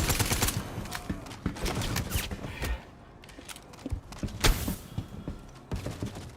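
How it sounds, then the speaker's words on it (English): Star Citizen gunfire, Hurston forces firing: dense bursts of shots and rapid volleys over a few seconds, a brief lull, then more loud cracks and impacts near and around the player. "Why is Hurston shooting me in the back?"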